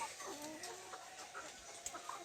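Newly arrived layer hens, about 16 weeks old and not yet laying, cluck and murmur softly at close range in a steady, low chatter.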